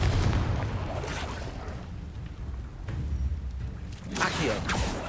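Rapid fiery blasts of the Confringo spell during Hogwarts Legacy combat, dense rumbling booms and crackling bursts that swell and recede, with a fresh loud burst near the end.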